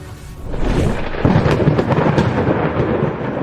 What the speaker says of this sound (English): Pappy gets enemies in sight and casts Thunderwave